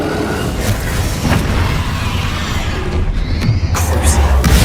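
Bombarda explosive spell blasts during Hogwarts Legacy combat, a dense run of booming bursts and crackling impacts with a heavy low rumble that swells near the end, loud and close, with a brief voice buried in the din.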